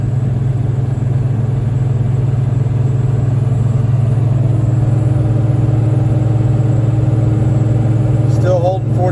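Diesel truck engine pulling a load of hay at around 40% throttle and 2,200 RPM, producing a loud, constant low drone throughout, with a brief higher sound near the end.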